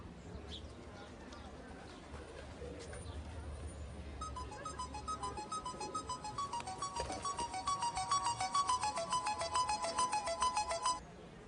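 A mobile phone ringtone rings unanswered, its melodic repeating tones entering midway and growing louder and more rhythmic until they cut off near the end, over background murmur with some voices.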